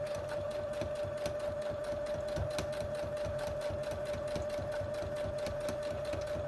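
Sewing machine stitching a cork fabric zipper pouch, running continuously with a fast even mechanical chatter and steady whine, close and alone.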